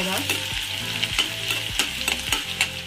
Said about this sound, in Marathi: तेल गरम झालेलं आहे, त्यामध्ये एक कांदा कापून घालूया, व्यवस्थित मिक्स करून घेऊया।